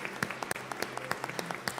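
Congregation clapping inside a church, a sparse, uneven patter of individual hand claps rather than a dense ovation, fairly faint and steady with no voices over it.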